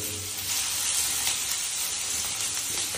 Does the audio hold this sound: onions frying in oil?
yes